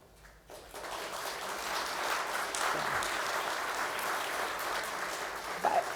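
An audience at a talk on Manitoba Jewish physicians claps as a guest stands to be recognised, a sustained wash of applause at moderate loudness that swells after a quiet start and holds to the end.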